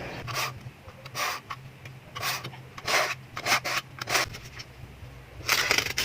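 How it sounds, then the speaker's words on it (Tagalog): A kitchen knife is drawn repeatedly through a handheld sharpener, giving a series of short, gritty rasping strokes in an irregular rhythm, close and fairly quiet, with no talking. "Subukan ulit nating hasain."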